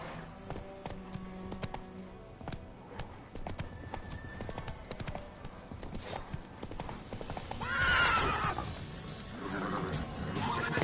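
Hooves of a horse galloping in a video game clatter steadily throughout, with a whinny rising near the middle and faint game sounds in the background.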